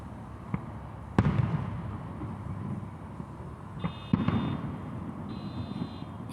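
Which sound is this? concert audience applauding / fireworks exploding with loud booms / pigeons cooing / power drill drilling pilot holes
fireworks exploding with loud booms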